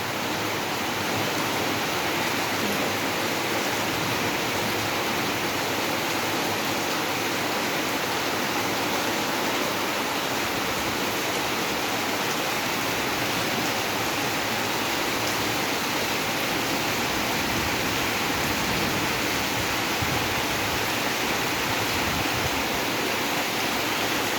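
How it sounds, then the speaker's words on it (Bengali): Heavy rain pours down outside a house beside a neighbour's mango tree, a loud, unbroken roar of falling water that holds steady throughout with no speech. "বেশ অনেকটা জোরেই বৃষ্টি পড়ছে।"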